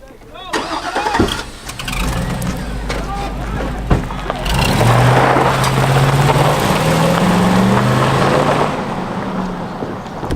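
A car engine starts and revs, then settles into a loud, close idle and rising engine drone as the car pulls away, with people's voices talking over it throughout.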